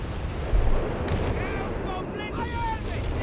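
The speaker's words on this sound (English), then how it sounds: "American artillery there being used to counter the Italian artillery gun there" American artillery in Company of Heroes 3 firing in a battle: a dense, rumbling wash of distant booms and battlefield noise, steady and loud throughout, with a commentator talking over it.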